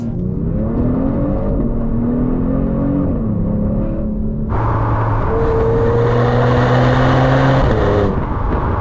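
A 2022 Genesis G70's engine drones and then flares sharply as a quick paddle-shift downshift kicks the revs up, a loud sustained whir and growl with rising pitch and no voices.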